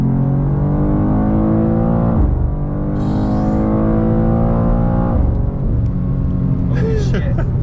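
A BMW M2 accelerates hard at full throttle in M2 mode, the engine note climbing in pitch through two automatic upshifts, loud and close from inside the cabin, with a brief chirp of other noise near the end.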